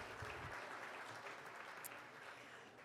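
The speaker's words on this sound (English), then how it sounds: "Big round of applause." Audience applause at a Los Angeles gala evening, steady dense clapping from a large room, heard at a distance and fairly faint, with no talking over it.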